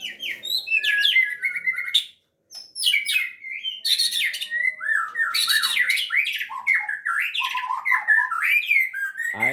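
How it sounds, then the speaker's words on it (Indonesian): A white-rumped shama (murai batu) at a breeding farm sings loudly and close by, pouring out varied whistles, rapid chirps and squawky phrases in continuous bursts with only a brief pause. "inilah murai batu kita"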